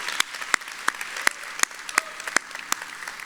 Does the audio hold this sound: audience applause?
yes